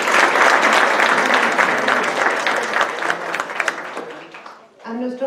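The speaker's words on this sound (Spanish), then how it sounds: "un aplauso para ella" Applause from an audience at a Mexican watercolor society prize ceremony, honoring the president of the National Watercolor Museum friends' society; sustained dense clapping that fades near the end as a voice begins.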